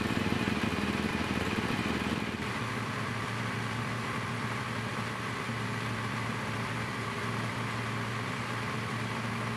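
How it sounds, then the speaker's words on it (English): A BMW R1200GS motorcycle engine starts and settles into a steady warm-up idle, a continuous close mechanical drone with a brief louder burst at the start and no speech. "So we'll start the bike and bring it up to temperature."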